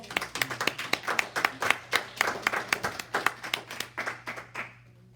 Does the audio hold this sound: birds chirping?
no